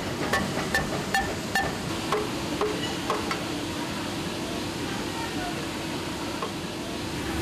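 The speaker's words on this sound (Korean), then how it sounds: "일일이 손으로 접착제를 칠하고 잘 붙도록 망치로 두드린다" Hammer taps on glued leather pieces in a Bangladeshi leather factory, a run of sharp knocks in the first three seconds over steady workshop hum, with people talking in the background.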